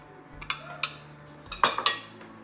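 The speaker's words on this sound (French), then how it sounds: "Je vais renverser mes sardines dans ce bol avec les oignons ciselés" Sardines are tipped into a bowl of finely chopped onions, heard as a few sharp metallic clinks and taps of utensil against dish, close and scattered, with no talk.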